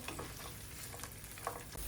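Faint, steady sizzling of dried fruits, raisins and nuts frying in a pan, with light scraping from stirring.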